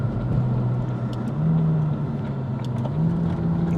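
A McLaren supercar driving steadily around a roundabout, its engine giving a continuous low drone with slight swells in revs, heard close from inside the cabin with no talk.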